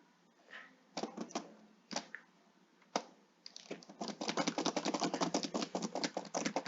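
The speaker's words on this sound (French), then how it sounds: "Si vous m'entendez comment je tape" Keys clatter on a computer keyboard, a few scattered taps at first, then a fast, dense run of clicks that continues steadily, heard close and alone.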